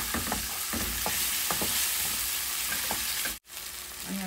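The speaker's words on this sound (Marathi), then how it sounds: "ही डाळ भिजत घालून ठेवलेली मुगाची ती घालूया आणि मिक्स करून घेऊया." Soaked moong dal is tipped into a hot pan and stirred, a steady sizzle punctuated by repeated spatula scrapes and knocks, with a brief gap near the end.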